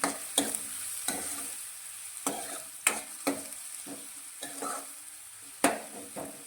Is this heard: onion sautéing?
yes